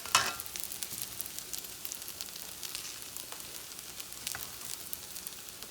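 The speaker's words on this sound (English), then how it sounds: "Now I do more of the stirring and mixing." Rice with Vienna sausages being stirred and mixed in a pot, a steady close sizzle with scraping spoon strokes and a sharp knock at the start, with no voices.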